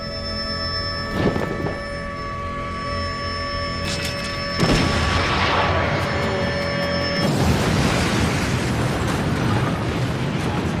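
An explosion in the Cowboy Bebop anime, heard as a sudden loud rumbling blast that swells mid-clip and keeps roaring to the end over a tonal soundtrack hum.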